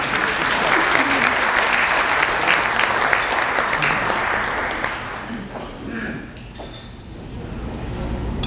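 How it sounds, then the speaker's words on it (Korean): Audience applause at a Korean advertising-industry anniversary gathering, loud and dense clapping from a crowd filling the room for several seconds before tapering off, with some clinking of glasses and murmuring voices. "큰 박수로 맞아주시기 바랍니다."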